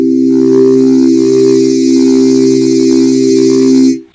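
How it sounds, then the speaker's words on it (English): An FM synthesizer patch, a hybrid percussive synth pad, holds one loud sustained buzzy tone with steady harmonics for about four seconds before cutting off abruptly. "hybrid percussive synth pad type of thing"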